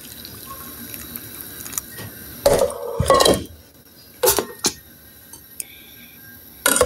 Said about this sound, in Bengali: এই তো আমি শিরাটি ঢেলে দিলাম।